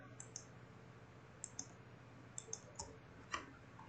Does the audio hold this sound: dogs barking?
no